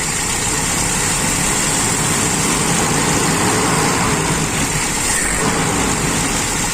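A Toyota Kijang Grand with a 5K engine on its original carburetor runs loud and close, a steady heavy engine drone with a slight rise in revs near the end, no talking.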